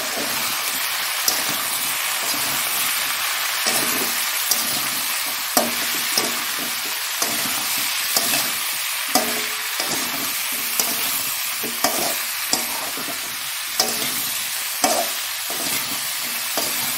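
Cauliflower and potato frying in a pan with turmeric and whole dried chillies, a loud continuous sizzle close up, broken by regular scraping strokes of a spatula stirring the pieces.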